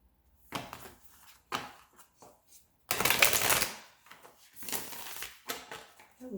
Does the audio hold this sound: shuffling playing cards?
yes